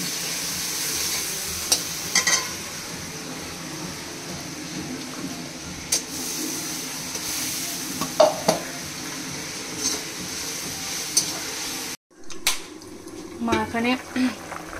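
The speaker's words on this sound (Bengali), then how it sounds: "আমি ডালে কাঁচা লঙ্কা দিয়ে দেবো" Green chillies go into a pot of cooking dal, giving a soft continuous sizzle and bubbling with occasional stirring scrapes and utensil clinks, a brief cut near the end and faint voices in the background.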